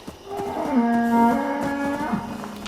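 A cow in Fallout 76 lets out a long, loud moo with a rising, harmonic tone, sustained for about a second and a half against a faint background.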